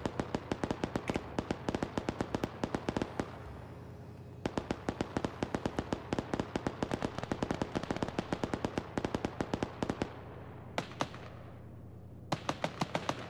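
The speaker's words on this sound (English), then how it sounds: "Gunshots all around." Gunfire in the Arma 3 military video game, rapid bursts of sharp automatic and single shots crackling in dense runs with brief pauses between volleys, loud and close throughout.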